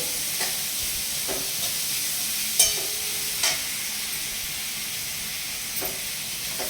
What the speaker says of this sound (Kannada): ಈರುಳ್ಳಿ ಎಲ್ಲ ಚೆನ್ನಾಗಿ ಫ್ರೈ ಆಗಿದೆ